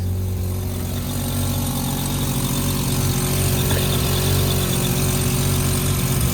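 A Mazda FC RX7 rotary engine idles steadily up close after a jump start, a loud, even low drone with faint mechanical whine and no talking.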